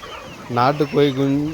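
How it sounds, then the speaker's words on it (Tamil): A short burst of guinea fowl, turkeys and chickens clucking and squawking close by, a few quick calls over a faint background. "இதில் வந்து பார்த்திங்கன்னா கின்னி கோழியும் இருக்குது, வான்கோழியும் இருக்குது"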